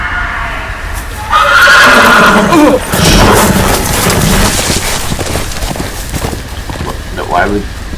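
A horse in a Game of Thrones scene whinnies loudly and close, one long shrill neigh followed by snorting and hoof movement, over a steady rain-like wash of noise.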